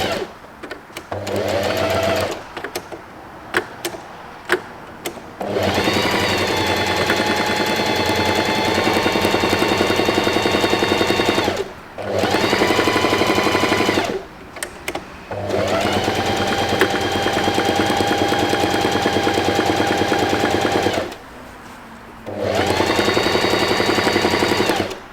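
A Singer 4423 sewing machine runs in long, loud bursts of rapid mechanical stitching with short pauses between runs, close up and with no talking.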